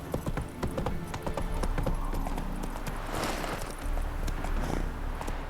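Roach the horse galloping in The Witcher 3: Wild Hunt, fast rhythmic hoofbeats thudding close and loud over game music, with a brief whinny-like swell midway.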